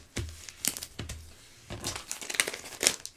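Sticker paper being folded and crinkled close up, several short crisp crackling bursts with brief pauses between them, fairly quiet and alone.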